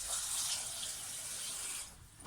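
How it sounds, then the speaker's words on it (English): Water runs from a kitchen sink tap into a cooking pot in a steady, close, bright rushing hiss that holds for nearly two seconds, then drops off abruptly. "I hate the sound of pouring water."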